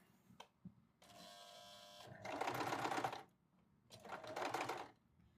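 Usha Janome sewing machine stitching fabric in short, faint bursts: a brief run, then two louder rapid-stitching spells separated by pauses, heard close with no talk.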